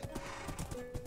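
Horse hooves in a Minecraft game clip-clop in a quick, even rhythm of close, crisp steps, about a second of trotting with no voice over it.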